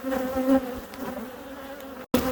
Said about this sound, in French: je vois des abeilles sur vraiment tous les cadres